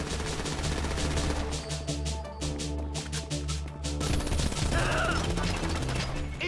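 Rapid automatic gunfire from a shootout in the video game GTA V, loud and sustained bursts of shots with crashes and impacts layered over a steady low game soundtrack.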